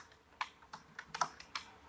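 Light, uneven keystrokes on a computer keyboard while typing code, about seven taps over two seconds, close but quiet against a soft background hiss.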